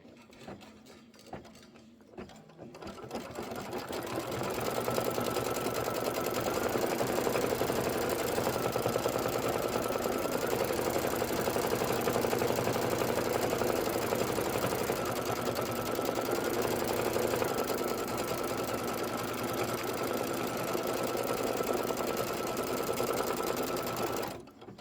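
A sewing machine stitches a pillow with black thread, starting after a few quiet seconds and then running steadily and evenly at a close, constant level until it stops at the end.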